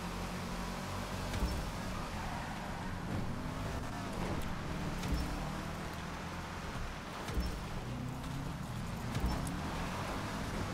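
A Toyota Supra street-racing in GTA Online, a continuous engine roar with steady road and tire rumble throughout, fairly loud and unbroken.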